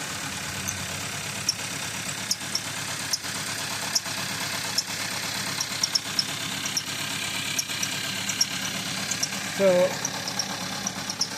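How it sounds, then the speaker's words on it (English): A 2016 Hyundai Tucson engine idles rough with a cylinder misfire, a steady low drone broken by faint periodic knocks and shakes, with a brief voice near the end. "I'm just going to share with you how the engine is shaking"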